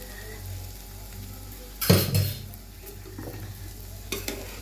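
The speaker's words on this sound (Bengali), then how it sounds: "এখানে এক চামচ ঘি দিয়ে দিচ্ছি এই সাইডটায় তার উপরে যে ডিমটা আছে না সেইটা ঢেলে দিচ্ছি" Beaten egg hits a spoonful of hot ghee in a pan beside dal, giving a sudden loud sizzling burst that eases into a softer crackle, followed by a few light stirring clinks.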